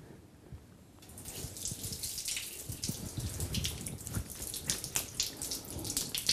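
Water runs from a tap over the left foot during ritual ablution, a close, steady splashing flow that grows fuller after the first second and continues evenly with small spatters.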